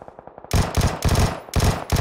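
A Vector submachine gun fires in PUBG, loud and close, in rapid automatic bursts: a muffled rattle first, then three fast, heavy strings of shots split by short gaps.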